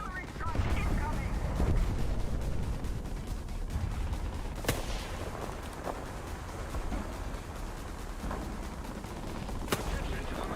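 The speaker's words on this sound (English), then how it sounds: "Artillery strike incoming!" Booming artillery strike explosions in a video game, a rolling series of heavy blasts and sharp cracks scattered across the clip, with a couple of loud close impacts standing out against continuous battle rumble.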